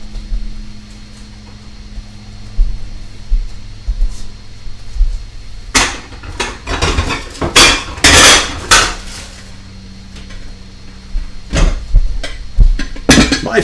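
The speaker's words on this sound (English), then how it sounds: "Let me get a bowl here out of my bowls." Ceramic bowls clatter and knock sharply as one is pulled from a stack, producing a burst of close, loud clinks and thuds with short pauses between, followed by a few more scattered clanks; no talking.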